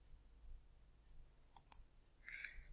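Two quick, sharp mouse clicks in fairly quiet surroundings, close and crisp, followed by a faint brief rustle.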